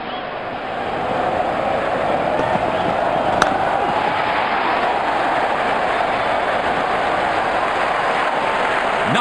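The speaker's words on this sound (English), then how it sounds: "The crowd is going crazy." A crowd at a cricket stadium during an India versus Pakistan test match roars and cheers after a big hit. The roar is a loud, continuous wash of noise that barely changes for the whole stretch.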